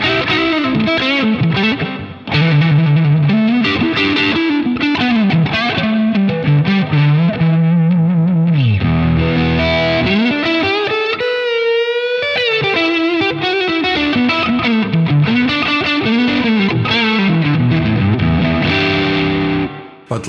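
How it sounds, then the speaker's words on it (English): Heavily distorted electric guitar played loud through a tube amp, sustained chords and bending lead lines with dense crunchy overtones filling the whole clip, alone without voices. "having a heavier distortion like I, with my tubes"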